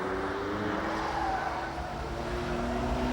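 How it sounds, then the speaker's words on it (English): A supercar of the early 1990s heard in fourth gear at around 140, engine note steady and loud throughout, with faint tonal whine layered over a broad rumble as it nears a tight chicane; no distinct braking sound stands out. "in fourth gear, we're already up to 140 before we need to brake heavily down into this tight chicane"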